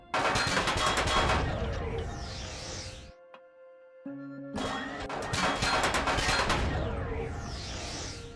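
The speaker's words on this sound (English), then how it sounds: "There's a minigun who'll kill you all" Continuous roaring bursts of minigun fire in the sci-fi survival game Empyrion Galactic Survival, loud and dense, broken by a short pause with electronic tones before the rapid fire resumes.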